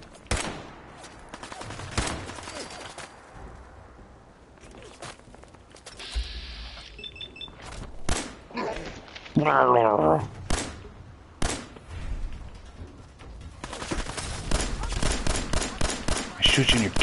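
Gunfire in Fallout 4, bursts of shots scattered through busy game action, with a dense volley near the end, heard alongside in-game sounds and a person talking.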